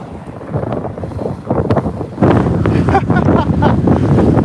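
Strong wind buffets the microphone during an e-bike mountain ride on raw streets, a steady loud roar that swells and stays intense throughout, with no voices.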